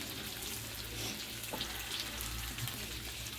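Fish fries in a pan of oil with a continuous, close, even sizzle and faint bubbling crackle, alone without any voice.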